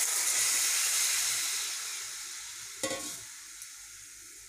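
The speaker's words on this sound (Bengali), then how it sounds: "এরপর আমি দেখো মশলার সাথে ছোলার ডালটা ভালো করে কষিয়ে নিয়েছি।" Boiled chana dal frying with spices and green chillies in a pan gives a steady close hiss that slowly fades, with one sharp scrape of stirring near the end and a faint tap after; no one speaks.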